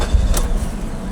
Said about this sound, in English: With the Neon now finally having started